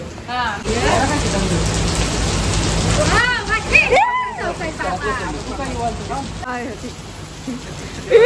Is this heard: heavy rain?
yes